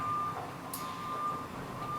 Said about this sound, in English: you can hear the garbage trucks in the background